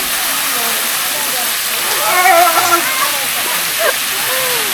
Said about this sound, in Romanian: Și este una dintre puținele cascade care pică fix în drum.